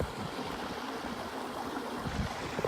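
Steady rushing and gurgling of a shallow stream at an old abandoned mill site from the 1700s, heard up close as continuous broadband water noise with no voices.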